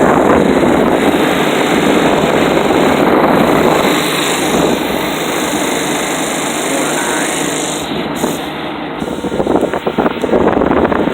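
A Nordyne Quiet Kool window air conditioner, a Fedders unit, runs with a steady, loud broadband whoosh of fan and compressor noise that continues without a break from start to finish.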